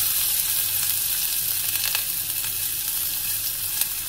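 Chopped onion sizzles steadily in hot olive oil for a paneer and cheese parcel filling, with a broad, continuous hiss and a few faint clicks of a spoon against the pan.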